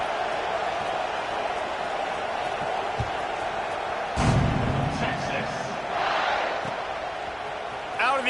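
Football stadium crowd rumbling steadily as teams line up for the kickoff, a broad, distant roar of many voices that swells briefly and settles, with a few sharp thumps and shouts rising out of the din.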